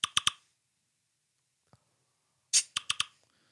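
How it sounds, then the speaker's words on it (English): Slack message notification: a quick trio of bright chiming pops, a faint click after a pause, then the same bright pop pattern again, clean and isolated. "You're getting a message on Slack."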